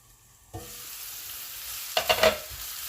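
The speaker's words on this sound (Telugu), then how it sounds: "మూత పెట్టి ఒక 2 మినిట్స్ ఉల్లిపాయలని మగ్గనిద్దాం" Salted onions cook in a covered pan, a steady low sizzle rising suddenly and then holding, with a brief cluster of metallic clinks partway through.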